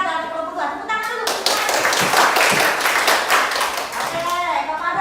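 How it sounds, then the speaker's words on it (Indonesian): A group claps together for a student moderator during a university teaching-practice class session: a dense burst of hand claps lasting a few seconds, with talking just before and after it. "Tepuk tangan dulu."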